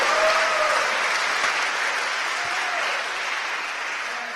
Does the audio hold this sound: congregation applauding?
yes